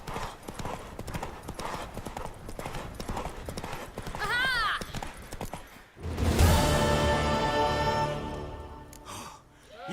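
Rapid hoofbeats of a horse galloping in The Witcher 3: Wild Hunt video game clip-clop steadily, then the horse whinnies loudly near the end, with a few voiced exclamations over the galloping.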